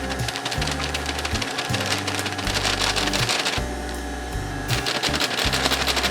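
Stand mixer running at low speed while making Swiss meringue buttercream, a loud steady motor hum with rhythmic knocking and clattering throughout.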